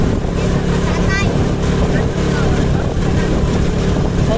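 A motocross motorcycle engine drones loud and close, a steady rough rumble with gusting wind noise across the microphone.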